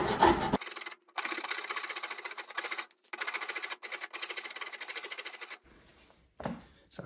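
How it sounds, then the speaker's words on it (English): Rasp filing on the heel of a wooden bass neck: repeated rough scraping strokes in bursts, close and steady, separated by short pauses, with a brief handling noise at the end. "I've done the filing which you just saw there with the Shinto Wasp up this end"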